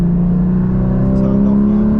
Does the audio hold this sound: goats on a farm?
no